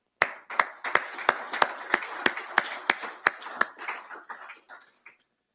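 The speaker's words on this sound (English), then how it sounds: "I'll offer them a round of applause." At a military promotion ceremony, a brief round of applause is heard: sharp, fairly evenly spaced claps that sound like a few people nearby. They fade out after about five seconds.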